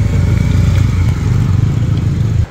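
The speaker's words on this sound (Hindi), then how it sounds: "अब वो लोग तो निकल गए हैं अभी घर के लिए बाइक से" Motorbikes ride off along a road near a forest cooking spot in the hills, a steady loud engine drone that holds for about two seconds and then cuts off sharply.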